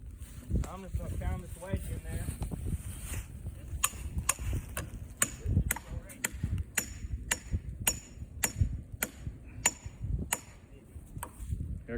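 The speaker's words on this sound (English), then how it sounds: "I'm going to just pound that wedge in as far as I can" A hammer drives a wedge into a saw cut in a tree, with a long series of sharp metallic strikes at a steady pace outdoors, over wind noise and a voice speaking.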